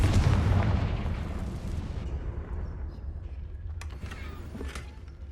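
A Confringo fire spell explodes in the Hogwarts Legacy video game: a loud, deep boom already underway that rolls into a long, fading low rumble, with faint crackles and debris ticks scattered through the tail and no talking.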